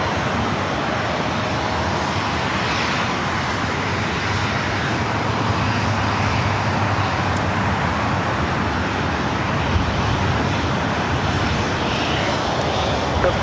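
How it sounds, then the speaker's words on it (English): A Boeing 737-900 ER airliner takes off at LAX, a loud continuous jet engine roar holding steady and broad over many seconds, with faint background traffic and no clear talk. "737-900 ER. Next takeoff."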